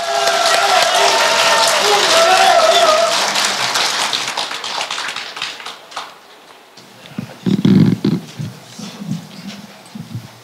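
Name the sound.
audience applause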